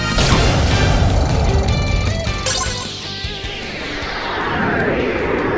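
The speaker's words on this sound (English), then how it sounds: "Direct attack!" A loud, crashing attack effect from the Yu-Gi-Oh Duel Links card game, a heavy impact with booming layered noise that rings out and fades over a few seconds.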